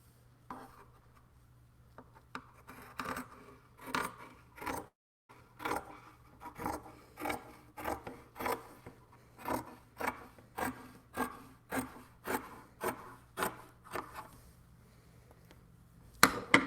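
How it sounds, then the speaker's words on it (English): Scissors cutting through the bottom seam of a cotton T-shirt: a steady series of close, soft crunchy snips at an even rhythm, quiet and without talk. "I'm going to cut the bottom seam off"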